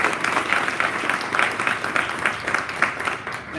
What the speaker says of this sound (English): Give him a massive round of applause.